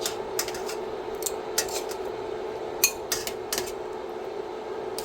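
Shrimp moved out of a pan during a shrimp scampi cook: a handful of sharp metallic clinks and scrapes of utensil against pan, spaced irregularly over a steady low kitchen hum.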